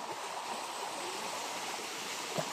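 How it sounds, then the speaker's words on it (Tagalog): Small waterfall on a stream, a steady broadband rush of flowing water that holds constant and fairly near throughout, with no voices. "Ito na yung talon mga bay."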